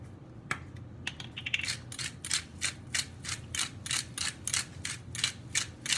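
Pepper grinder cranked over sliced tomatoes, a rapid series of crisp, evenly spaced grinding clicks that quicken and hold a steady rhythm, close and fairly loud with no talking.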